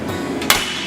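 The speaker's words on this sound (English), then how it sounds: "We can actually hit this thing with a hammer and it won't break." A single sharp hammer strike hits a Prince Rupert's drop glass tadpole, a short, bright clack that rings out over a steady background hum, with no talk.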